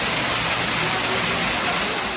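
A waterfall in the Japanese garden at Maymont park in Richmond, Virginia pours in a steady, loud, broadband rush that stays constant throughout with no voices.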